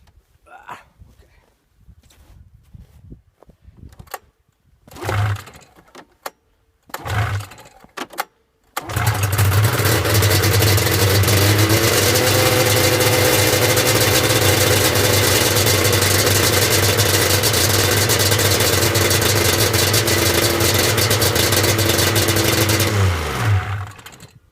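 A buggy engine starts after a few short knocks and cranking bursts, then runs loud and steady at close range for about fifteen seconds, its pitch rising and falling slightly before it cuts off.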